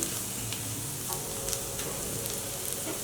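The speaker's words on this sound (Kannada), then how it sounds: "ಈರುಳ್ಳಿ ಇನ್ನೊಂದು ಸ್ವಲ್ಪ ಮೆತ್ತಗಾಗಲಿ" Onions fry steadily in a pan for a chapati-side curry, a dense continuous sizzle with a few faint stirring scrapes, close and fairly loud with no talk.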